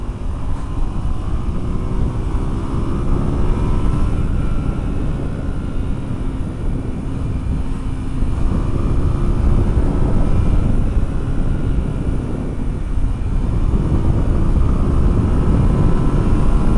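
An airplane flying near Gatwick Airport, its loud, steady engine drone with a slowly shifting tonal hum running continuously beneath heavy rumbling noise.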